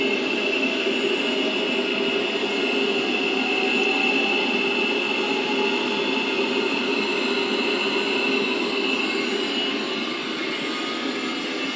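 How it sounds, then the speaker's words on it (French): Aircraft jet engine spooling up during an engine start, a loud continuous whine and roar with tones slowly climbing in pitch, steady throughout without talk. "Le moteur monte en régime."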